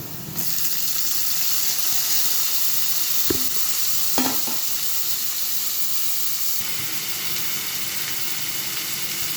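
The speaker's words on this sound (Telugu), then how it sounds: "ఆనియన్స్ బాగా వేగాయి కదా, ఇప్పుడు ఇందులో టమాటా వేసుకున్నాం." Tomatoes frying with onions in a pan, a loud constant sizzle and hiss after they drop in, with a couple of brief utensil knocks, close up and with no one speaking.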